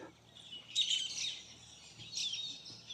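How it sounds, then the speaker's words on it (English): Birds chirp and tweet in trees along a street in Innisfail, Australia, with two bright bursts of twittering song over faint background ambience, moderately close and alone without talk. "A lot of birds in these trees as usual."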